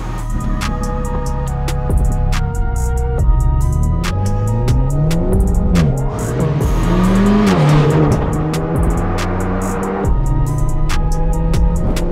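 Modified Renault Mégane RS Trophy on the road on La Réunion, its engine revving hard and loud with repeated rising pulls broken by gear changes and brief lifts of the throttle.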